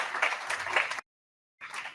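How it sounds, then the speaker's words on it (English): A studio audience at a Waze 10th-anniversary event claps live in two short bursts, loud and close, separated by a moment of silence. "I just wanted them all to see that you're really clapping"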